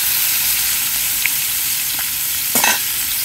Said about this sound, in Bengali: অল্প একটু ভাজবো, যেহেতু কোরাল মাছ তেমন একটা ভাজার দরকার নেই